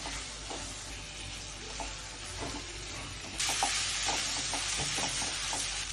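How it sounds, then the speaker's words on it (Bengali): Hog plums (amra) being sautéed in a spice paste for a coconut prawn curry, giving a steady frying sizzle with intermittent stirring scrapes that grows louder and hissier partway through; no one speaks. "আবারও আমি আমরা কষিয়ে নেব।"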